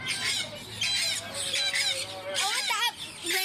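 Squawks and squeals from a small bright parrot, loud and close, arriving in several harsh bursts alongside people's voices.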